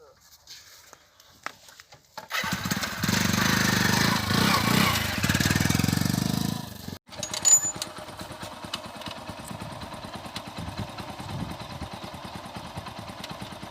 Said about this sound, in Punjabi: ਮੋਟਰਸਾਈਕਲ ਵਧੀਆ ਵਗ ਗਿਆ